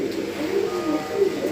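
A Bocara trumpeter fancy pigeon, a parent bird kept by a pigeon breeder, coos in a low rolling series of close, moderately loud calls with no talk over them.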